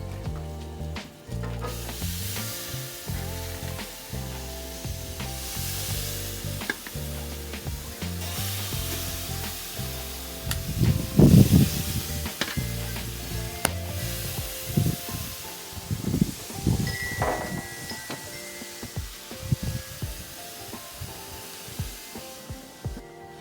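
Chicken kebabs sizzling on a grill: a soft steady sizzle and hiss sits beneath a repeating musical backing, with a few louder crackles and pops around the middle.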